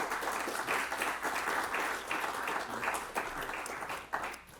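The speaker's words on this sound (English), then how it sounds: "So maybe give a nice round of applause to the panelists." An audience at a conference panel session gives sustained applause, a steady wash of many hands clapping with little talk beneath it.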